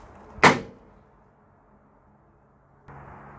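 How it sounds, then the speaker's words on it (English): A single sharp metallic clunk of a Ford Transit Custom van's rear door being pushed and latching into its 90-degree position, then quiet, with a faint hum starting later. "The rear doors can be locked in the 90-degree position, just push them in."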